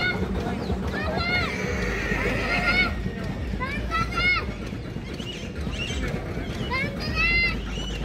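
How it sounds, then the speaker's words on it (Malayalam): A large stud-farm horse at the Muktsar horse fair (mela) in Punjab whinnies several times in close, clear calls. Constant crowd noise and nearby talk sit underneath. "നല്ല സൈസുള്ള കുതിര"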